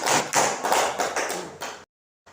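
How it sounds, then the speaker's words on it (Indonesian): Classroom applause for group 2 in an elementary class: a short burst of loud, close clapping in several bouncing waves, cutting off abruptly into silence before a brief resumption. "kasih tepuk tangan untuk kelompok 2"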